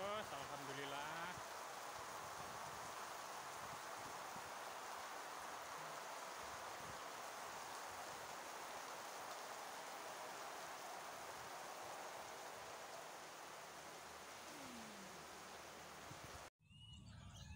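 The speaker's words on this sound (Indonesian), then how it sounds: "Hujan deras" Heavy rain pours steadily, a dense, loud hiss filling the space without letup, with faint background sounds buried underneath before a brief cut near the end.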